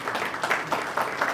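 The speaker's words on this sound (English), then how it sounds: "you no longer have to hold your applause." An audience at a luncheon presentation claps in a steady, dense patter. The applause continues without a break and sounds like a room full of people at a moderate distance.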